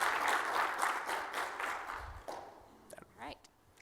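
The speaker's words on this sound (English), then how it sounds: "can we get a round of applause for Friedemann and Thomas?" An audience at a conference session applauds two presenters, rhythmic clapping for about two seconds that fades out, followed by someone speaking.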